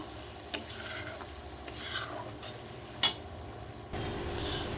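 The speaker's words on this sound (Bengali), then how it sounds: "ঘি দিয়ে আরেকটু কষাবো মশলাটাকে। সুন্দর করে কষানো হচ্ছে মশলাটা।" A spice paste is stir-fried in ghee with a quiet, steady sizzle, punctuated by a few sharp scrapes and clinks of a spoon against the pan.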